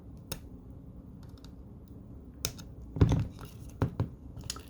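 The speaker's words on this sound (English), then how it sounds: "I'm just going to trim these off now." Plastic flash being trimmed off Game Boy Advance SP shoulder buttons, heard as a few sharp, close clicks and snips spread irregularly over a quiet background with no talk.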